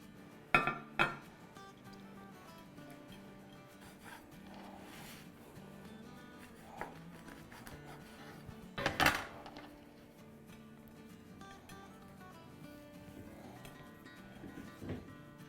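Utensils and dishes clinking as pita bread is dished out in a quiet kitchen, a few scattered light clinks and knocks with a brief louder clatter in the middle against soft background.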